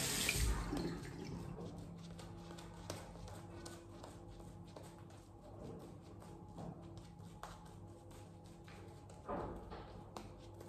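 Tap water runs steadily into a sink for wet shaving with an Edwin Jagger razor and Personna Platinum blade, a continuous close splashing stream with small clinks and movements over it, no talking.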